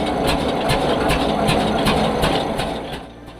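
A produce mill's engine runs loud and steady without pause, a dense mechanical drone with a rapid repeating chug, close by and fading slightly at the end.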